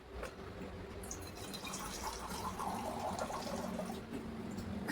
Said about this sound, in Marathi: अजून थोडं पाणी ऍड करणार